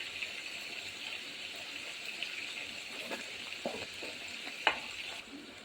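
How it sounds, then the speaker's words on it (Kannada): Onion, tomato and masala frying for a Mangalorean prawn curry, a steady soft sizzle running throughout with a few light stirring knocks, fairly quiet and close. "ಇದು ಈರುಳ್ಳಿ ಟೊಮೆಟೊ ಜೊತೆಗೆ ಮಸಾಲ ಕೂಡ ಸ್ವಲ್ಪ ಚೆನ್ನಾಗಿ ಫ್ರೈ ಆಗಬೇಕು."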